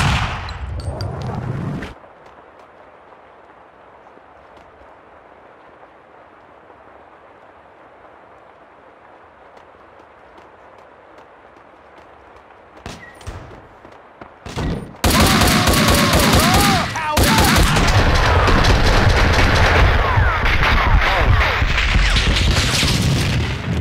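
M4 rifle gunfire in the Max Payne 2 video game, with a loud crash at the start, a quiet stretch, then a few bursts building into sustained, dense automatic fire and explosions that fill the final seconds.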